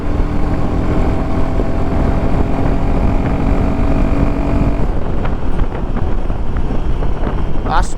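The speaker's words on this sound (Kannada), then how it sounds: "ಇವತ್ತು ಬೇರೆ ಹೆವಿ ವಿಂಡಿ ಡೇ" Heavy wind buffets the microphone on a Royal Enfield Himalayan 452 ride with a windshield, a constant low roar and rumble throughout, steady and loud.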